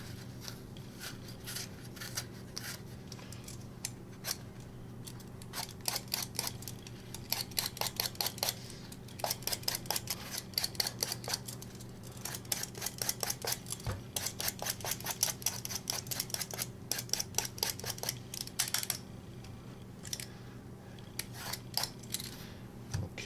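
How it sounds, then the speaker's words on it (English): An apple being peeled with a hand peeler while cooking roast pork with fruit on a barbecue gives quick repeated scraping strokes in bursts, close and fairly loud over a steady low hum. "Take this peeler and give this apple just a little bit of a peel."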